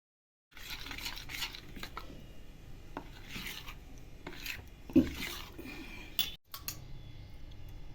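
Rice flour malpua batter being stirred steadily in a bowl, a continuous close rasping, scraping swirl with a few sharper knocks of the utensil, and no speech.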